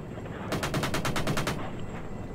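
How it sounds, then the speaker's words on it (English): A single rapid burst of automatic gunfire in ArmA 3, about ten evenly spaced cracks over one second, moderately distant against steady background rumble during a highway convoy fight. "we're taking gunfire on the east side of the highway"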